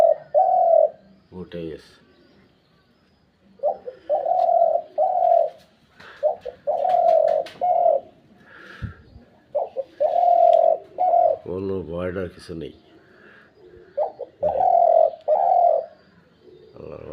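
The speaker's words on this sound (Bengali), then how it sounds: "ছোট টাইগার বর্তমানে খালি ডাকতেই থাকে" A small pet bird named Tiger gives repeated clear, tonal calls in short bursts, close and loud, with a person speaking briefly between some of the calls.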